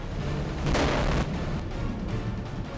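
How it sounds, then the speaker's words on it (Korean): A sudden loud boom bursts out briefly from a roaring kiln furnace fed with pine resin while melting bamboo salt, then the roar continues steadily. "갑자기 터진 폭발음."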